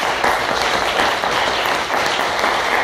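An audience at a book presentation applauds with steady, dense clapping that fills the room, loud and continuous for about three seconds.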